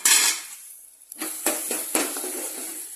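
Onions being stirred in a cooking pan for a buttermilk onion curry, with a loud scrape at the start followed by several sharp utensil clinks against the pan over a soft sizzle.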